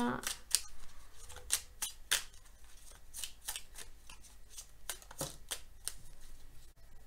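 Cards being shuffled and drawn from an angel oracle deck, a run of crisp, papery flicks and snaps in irregular bursts, close and fairly quiet, with no talking over them.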